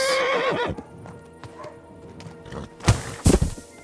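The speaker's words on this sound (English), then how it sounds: "Calm down, horsey." Horse in Kingdom Come: Deliverance II video game, a loud close whinny at the start followed by quieter shuffling and then a few heavy hoof thuds.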